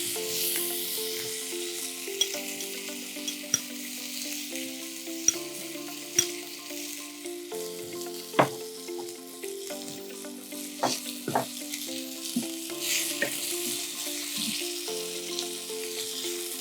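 Ginger-garlic paste and onion paste fry in a pan with a steady, close sizzle and occasional stirring clicks, while background music plays underneath.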